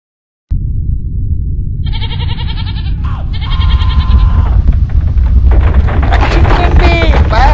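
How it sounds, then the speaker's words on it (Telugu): Goats and sheep bleat loudly over a strong rumbling background, with drawn-out wavering cries that start singly and then overlap into several animals calling at once. "వీటిని అమ్మి 2 మేకలు 2 గొర్రెలు కొంటాను"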